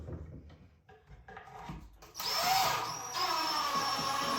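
A power drill drives pocket screws into a glued wooden joint in a workshop. Quiet handling and shuffling come first, then a loud, close, steady whine holds through the rest.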